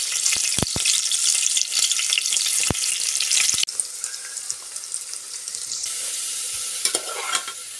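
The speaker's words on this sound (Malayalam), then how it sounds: "അതിലേക്ക് നേരത്തെ അരിഞ്ഞു വെച്ച സവാളയിൽ നിന്ന് അല്പം സവാള നമുക്ക് ഫ്രൈ ചെയ്തെടുക്കാം." Sliced onion frying in ghee with cashews and raisins for a prawn biryani, an intense bright sizzle up close with sharp clicks of stirring, settling into a slightly softer steady crackle, no voices.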